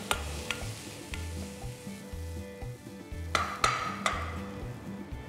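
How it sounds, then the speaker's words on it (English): Chopped onions sauté in a pan for soya keema matar, a close, continuous sizzle broken by rhythmic stirring scrapes and a few sharper clinks of the spatula against the pan. "Now you need to sauté this till the onion turns golden brown."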